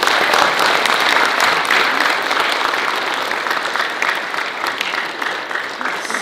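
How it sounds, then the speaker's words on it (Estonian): Warm, steady applause from a theatre audience at an Estonian theatre day for people with special needs in Paide, dense and close throughout and easing slightly toward the end. "Selle toreda sooja aplausiga tervitasime meie neid omalt poolt vastu."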